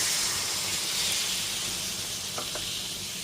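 A bowlful of water goes into a hot pan of soybeans with salt and sugar, sending up a loud, steady steaming hiss that stays constant throughout.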